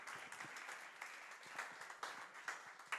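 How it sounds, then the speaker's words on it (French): Faint, distant applause from an audience at a youth sponsorship ceremony in Martinique, a soft continuous patter with a few sharper individual claps standing out, no talk over it. "Je vous demande d'applaudir Mme Balmy"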